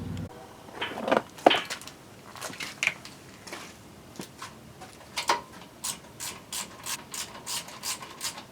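Ratchet wrench working on the frame of a 1975 Suzuki GT750 motorcycle during teardown, giving repeated bursts of quick clicking, with a steady run of evenly spaced clicks near the end, close and moderately loud with no talk.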